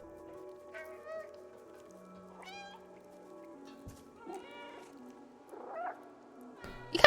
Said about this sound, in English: Press left alt to meow.